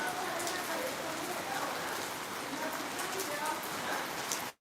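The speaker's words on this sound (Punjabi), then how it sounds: "ਸਾਡੇ ਤਾਂ ਇੱਧਰ ਜਿਹੜੀ ਕਿ ਫੁੱਲ ਬਾਰਿਸ਼ ਹੋ ਰਹੀ ਆ" Heavy rain pours continuously onto surfaces outdoors on the fourth day of a downpour, a dense, even hiss of drops that holds steady throughout and stops abruptly at the end.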